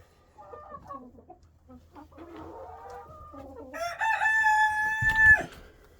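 Silkie hens cluck softly in a coop, then a rooster crows loudly and close by, one long call rising over the quieter hen chatter.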